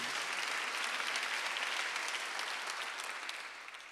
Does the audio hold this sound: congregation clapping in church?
yes